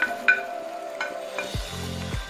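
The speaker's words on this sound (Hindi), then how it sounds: "सारी वेजिटेबल्स ऐड करके इसको अच्छे से मिक्स करते हैं सिर्फ 1 मिनट के लिए।" Vegetables tipped into browned chicken mince in hot oil for pasta samosa filling, a soft clatter followed by steady sizzling and scraping spoon strokes, close and quiet with no talking.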